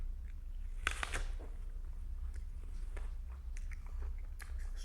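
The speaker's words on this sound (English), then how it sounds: "So many sensations in the mouth. Crunching, little noises, the taste of the apple." A crunchy apple bitten and chewed up close: a sharp crisp bite followed by soft, faint crunching and small mouth noises in a quiet setting.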